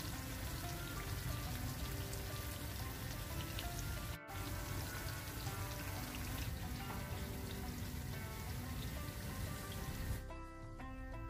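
Unniyappam frying in oil in a pan over a low flame, a dense continuous sizzle and crackle like rain on a surface, close and steady, with a brief dip partway through and a quieter tail.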